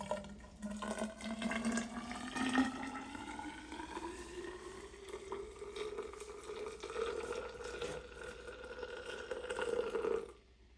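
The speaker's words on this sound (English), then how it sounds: "Go ahead and pour the boiling water down." Boiling water is poured down a clogged Oatey shower drain, giving a steady pouring, gurgling splash whose pitch rises as the drain fills, continuous for about ten seconds with no talking.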